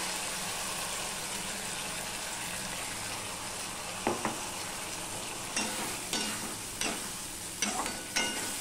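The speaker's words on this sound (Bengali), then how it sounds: "মাঝে মাঝে নাড়তে হবে, যেহেতু বাদাম দেওয়া গেছে সেই জন্যই মাঝে মাঝে নাড়তে হবে" A ridge gourd curry with ground nut and poppy seed paste simmers with a steady soft sizzle while a spoon stirs it, scraping the pan in a few brief bursts late on. No one speaks.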